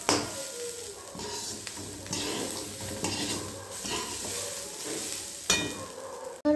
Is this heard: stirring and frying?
yes